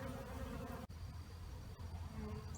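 Honeybees buzz around a hive in a steady, dense drone at close range, with a few brief dips in the sound and no voices.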